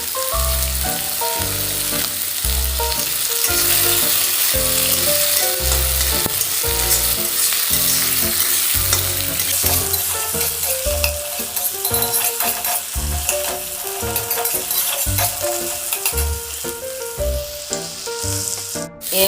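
Onions with panch phoron, ginger-garlic paste, tomatoes, turmeric and cumin powder fry in a pan, a loud, steady close-up sizzle broken by repeated scraping stirs, with no voices.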